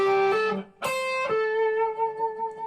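Electric guitar lead lick using a hammer-on, a few sustained ringing notes with sharp plucked attacks and a note change partway through, played close and alone.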